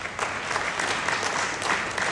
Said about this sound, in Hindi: तो ताली मार दो भाई।